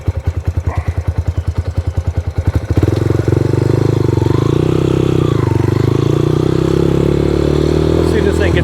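A Yamaha Raptor 125 ATV that idles too high and tends to bog: the engine first thumps in a fast, lumpy pulse, then steadies into a loud, droning high idle close by.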